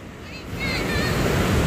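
Waves wash up on a seashore, a steady broadband surf roar that grows louder and fuller partway through, with some wind and faint tonal sounds in the background.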